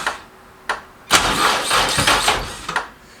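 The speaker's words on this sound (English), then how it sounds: "It wants to go as soon as you're trying to start it up though, so it's trying to turn the motor" Honda KRZ motorcycle engine being cranked and trying to start, with a couple of short clunks followed by a loud, rough churning burst lasting over a second, then dying off with a final knock.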